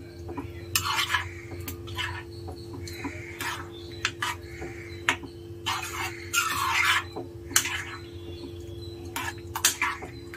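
Bisi bele bath being mixed with masala in a pot, with irregular clattering and scraping of a spoon against metal in bursts over a low steady hum, close and fairly clear, with no voices.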